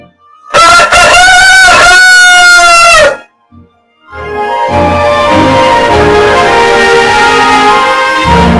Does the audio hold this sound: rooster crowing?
yes